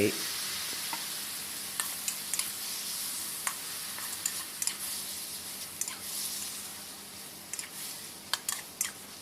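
Fish balls in a spicy sauce sizzle steadily in a wok while a spatula scrapes and clicks against the metal now and then, all close and without speech.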